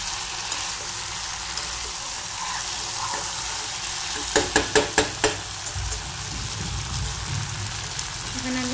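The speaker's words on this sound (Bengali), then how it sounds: "মাংসটাকে কষালাম।" Desi rooster chicken meat being sautéed over low heat in a pan gives a soft, steady sizzle, broken midway by a quick run of five or six sharp scraping knocks of a spatula against the pan.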